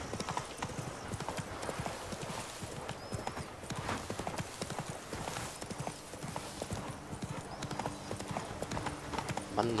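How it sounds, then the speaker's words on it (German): Horse hooves galloping steadily in The Witcher 3, a fast rhythmic clip-clop of four-beat strides at moderate volume, continuing throughout with faint ambient game sound underneath. "Und jetzt auf im Galopp."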